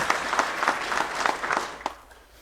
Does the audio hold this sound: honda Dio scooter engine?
no